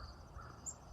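Crows caw faintly in the distance outdoors where small birds are feeding, a brief, soft call over quiet background ambience.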